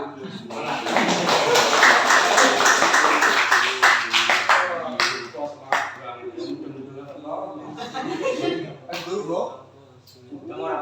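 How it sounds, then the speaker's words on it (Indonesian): Scattered hand clapping from a group during a lesson on reading kitab kuning with the al-Miftah method, mixed with lively voices talking over and around it. "Mono, tepuk tangannya apa ora?"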